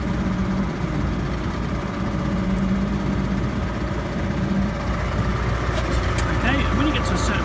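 A tractor engine rumbles steadily while the tractor eases back gently to hitch a trailer with a pick-up hitch, a constant, fairly loud drone with speech over it.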